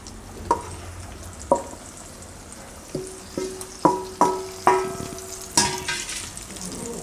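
Maize flour is stirred into hot water with a little oil in a metal pot, making a series of knocking spoon strikes against the pot in an uneven rhythm over a faint background hiss.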